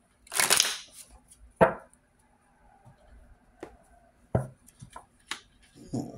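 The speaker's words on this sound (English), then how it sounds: "One more shuffle," Tarot cards are shuffled by hand in several separate, sharp riffling bursts, close and clear, with quiet gaps and small taps between them.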